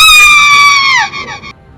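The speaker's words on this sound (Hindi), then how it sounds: "तभी मैंने उस औरत के चीखने की आवाज़ सुनी" A woman's piercing, sustained scream rings out loud and close, a single shrill cry that holds steady then bends downward and fades, used as a horror story sound effect.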